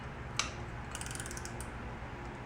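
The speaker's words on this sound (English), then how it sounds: "I'm going to loosen this lock nut" A 10mm wrench ratchets and clicks against a lock nut during a valve adjustment on a Royal Enfield Continental GT 650, a few close, crisp mechanical clicks with a sharp tap near the start, no talk.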